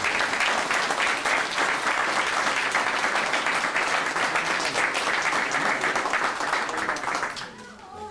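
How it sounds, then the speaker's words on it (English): A fire department awards ceremony audience gives a firefighter a full round of applause, loud dense clapping that holds steady for several seconds, then tapers off as a voice starts up at the end. "please give him a round of applause"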